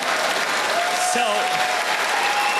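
An audience at a Montreal stand-up comedy show bursts into loud, sustained applause that fills the whole moment, while the comedian speaks briefly over it.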